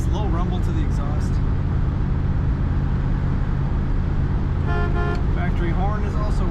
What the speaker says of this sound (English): Factory horn is also working.